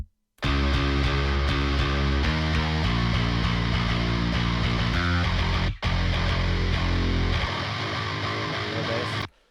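Heavy distorted metal guitars layered with bass guitar in a mix, dense and loud throughout, with chugging palm-muted chords changing every couple of seconds and a brief full cut near the middle before resuming.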